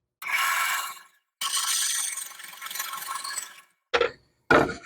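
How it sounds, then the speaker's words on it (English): A bandsaw cuts through wood for a circle cutting jig in a few separate passes, rasping bursts broken by short pauses, the last two cuts brief. "So let's see if the bandsaw will cut it."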